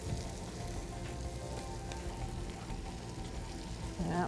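A pot of water boiling on a stove bubbles and sizzles in a steady, dense crackle close by, continuous throughout, with no talk.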